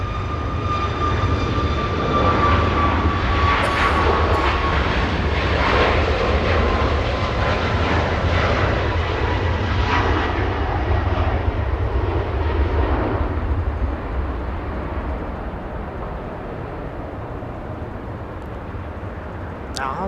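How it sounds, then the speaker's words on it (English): A Southwest airliner makes its takeoff roll at LAX, with a loud sustained engine roar and whine that slowly fades as it moves away, while someone talks over it. "We have an aircraft getting a move on, performing its takeoff roll."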